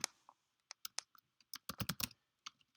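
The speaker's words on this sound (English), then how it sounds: "Now we're going to type in a variable called name" Python code being typed on a computer keyboard, a quick irregular run of close, crisp key clicks with short pauses, no talk.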